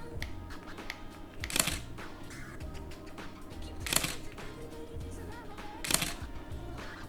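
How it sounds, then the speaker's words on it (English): A camera shutter fires three times, triggered by a shutter remote, as sharp, faint clicks spaced about two seconds apart over a quiet room background. "every time you push this button, it will grab a photo"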